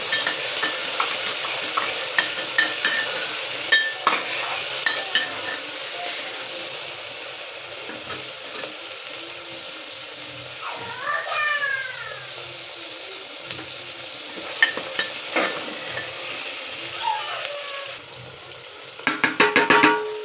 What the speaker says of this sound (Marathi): कांदा परतून घातला होता टोमॅटो घातले टोमॅटो सुद्धा कांदे परतून घ्यायचे